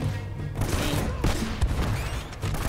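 Gunfire in the cover-shooter video game Uncharted: Drake's Fortune, a dense fusillade of rapid shots and bursts with sharp cracks layered over constant low rumble for the whole stretch.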